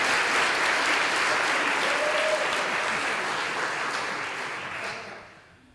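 Audience applause at a public talk, a thick wash of many hands clapping steadily, loud at first, then gradually thinning and fading out near the end.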